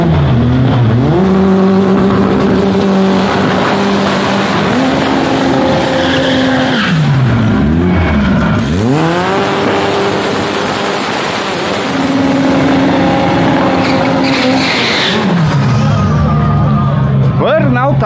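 Drag race pitting a Chevette with an AP engine against a Gol, front-wheel drive versus rear-wheel drive, engines revving and accelerating loud and close with rising tones and shifts, under an announcer's commentary.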